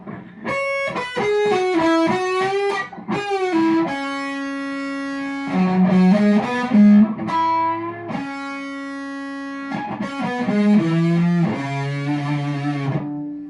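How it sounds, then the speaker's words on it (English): Electric guitar played through a distortion overdrive pedal, a run of saturated, sustained notes and chords with rich buzzing harmonics, loud and continuous with brief gaps, no talk. "This one here actually is the bee's knees of distortion overdrive pedals."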